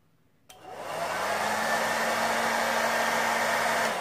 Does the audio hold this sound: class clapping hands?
no